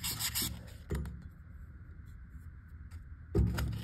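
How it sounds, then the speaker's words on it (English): Sandpaper or emery cloth rubbing metal smooth while replacing trailer bearings, heard as a few short, close raspy scrubbing strokes separated by quieter pauses. "I got a little bit of sandpaper here, or emery cloth. Just make sure there's no burrs."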